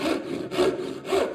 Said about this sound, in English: Just a handsaw.